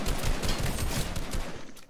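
Gunfire in a video game, a dense rapid burst of loud cracking shots filling the moment, close and harsh before tailing off.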